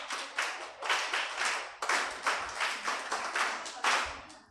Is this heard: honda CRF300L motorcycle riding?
no